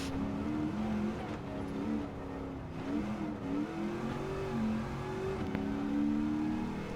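A racing car engine at Mount Panorama in Gran Turismo 7, revving up and down through gear changes with rising and falling whine, steady and close, alone without talk.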